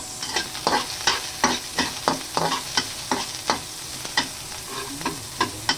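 Onion is sautéed in a small amount of oil alongside ginger, a sizzling hiss punctuated by a regular series of sharp scraping strokes from stirring, close and steady.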